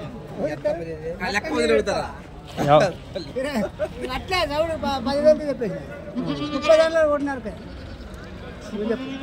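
Several female goats bleat in quavering bursts nearby at a goat market, mixed with people talking over them.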